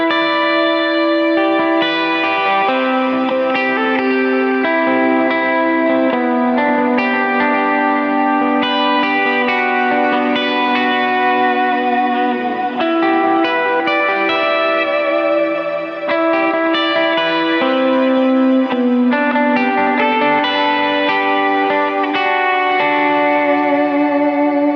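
Clean electric guitar played on the bridge pickup through a Kemper clean preset, ringing chords and melodic lines with reverb and echo, steady and prominent throughout with no talking.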